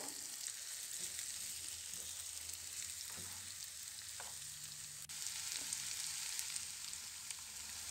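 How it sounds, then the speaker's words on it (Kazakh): Long-sliced cabbage sizzles in a pan of frying vegetables and gets stirred, with a steady low crackle and a few soft scrapes and taps of the utensil throughout. "Әбден қуырылғаннан кейін үстіне ұзынша етіп туралған капустамызды салып араластырамыз."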